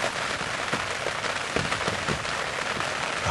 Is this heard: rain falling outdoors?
yes